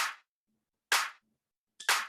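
Three sharp layered clap hits from a house track, isolated and evenly spaced about a second apart, each a bright crisp burst with a short decaying tail and silence between.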